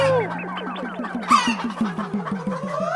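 A voice imitates a rooster: a quick run of close, fairly loud clucking calls that swell into a brief crow-like cry, alone without other talk.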